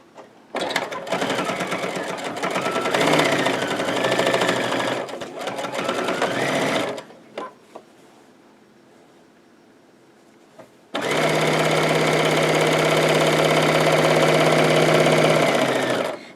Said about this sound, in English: So we'll take it back over to the sewing machine and stitch the sides